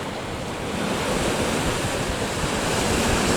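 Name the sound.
small waves coming in on a beach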